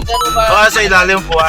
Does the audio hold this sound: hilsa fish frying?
no